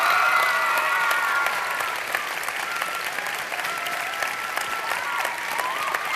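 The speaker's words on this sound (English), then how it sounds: "Give him a big round of applause." Audience applause at a live science event in London, sustained and even clapping from a large crowd with faint voices mixed in, holding steady throughout.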